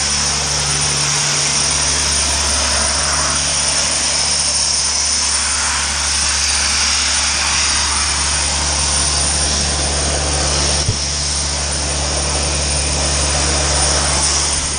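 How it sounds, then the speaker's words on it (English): Soda blasting media striking the fiberglass hood of a Kenworth W900A truck, a loud, continuous broadband hiss and roar with a steady low compressor drone beneath, running unbroken throughout. "We're just testing it to see how it blasts off."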